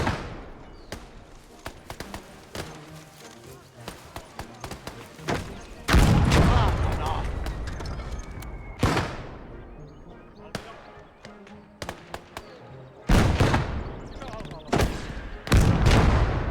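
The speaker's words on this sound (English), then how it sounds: "we're about to start a bombardment." Artillery bombardment in the WWII strategy game Gates of Hell: repeated heavy booming blasts and gunfire bursts, some close and loud, some more distant, scattered irregularly across the scene with sparse speech between shots.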